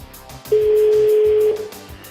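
The second ring of a telephone comes through a French TV broadcast as a single loud, steady tone lasting about a second, with faint music before and after it.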